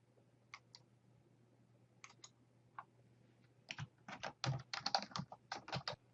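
Keyboard keys tapped on a computer while editing a PowerPoint presentation, a few isolated clicks at first, then a quicker, denser burst of typing near the end, close and fairly quiet with no talking.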